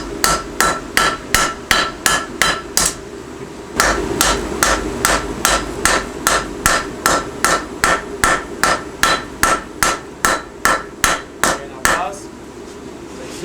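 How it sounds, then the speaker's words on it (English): Steady rhythmic hammer blows on a blade's cutting edge at a forge, around thirty sharp metallic strikes at an even pace with one short break, loud and close over a low shop hum. "go ahead and hammer here and here"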